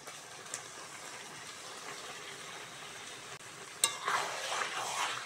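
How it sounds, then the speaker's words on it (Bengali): Salt-and-turmeric coated lote fish goes into frying spices; a quiet low sizzle gives way to a sudden clatter and a louder burst of hissing frying near the end. "এইবার আমি ধুয়ে কেটে রাখা লবণ হলুদ মাখানো লোটে মাছটা দিয়ে দেবো।"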